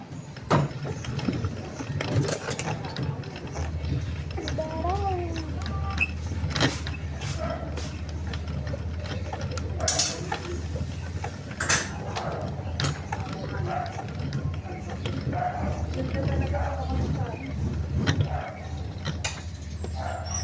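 Grinder milling about four kilos of rice, a continuous mechanical whir and rattle with steady ratcheting, gear-like clatter throughout, fairly close and alone without talk.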